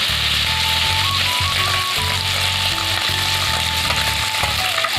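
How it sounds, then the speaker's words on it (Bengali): Small fish fry crisp in a pan with a loud, steady sizzle, over background music with a low rhythmic beat and a sustained melody line. "মাছগুলো কড়া করে ভেজে নিতে হবে"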